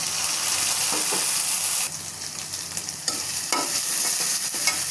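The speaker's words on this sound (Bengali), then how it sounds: "মশলা ভাজা হয়ে গেছে" Ground spice paste fries in a pan over already-fried onions for a rohu fish and cauliflower curry, a loud steady sizzle broken by stirring scrapes, with no talking.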